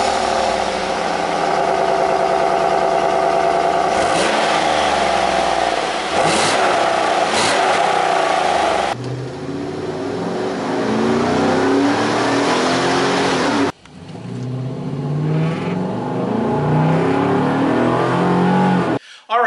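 A 2013 Chevy Avalanche fitted with a cold air intake revs hard several times, its engine roaring up and falling back to idle in loud, close bursts.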